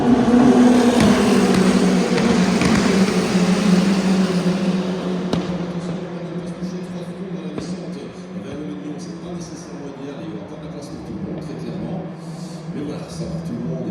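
GT race cars roar past during the 12 Hours of Spa 2023 endurance race at Spa-Francorchamps, loud sustained engine drone and revving that slowly fades, heard beneath continuous commentary.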